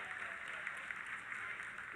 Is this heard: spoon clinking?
no